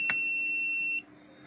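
A low-cost breath analyser sounds a steady electronic beep for about a second, then it cuts off, leaving quiet background hum.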